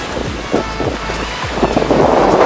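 Storm-driven waves and strong wind on the Manila Bay shore, where trash has mixed with dolomite and black sand; wind buffets the microphone steadily while surf surges roll in again and again, close and loud.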